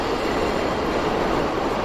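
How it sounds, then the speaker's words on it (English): A train passes close by, giving a loud, steady broadband rumble and rush that holds unchanged throughout, with no voices over it. "wait, we got a train, we got to wait a second"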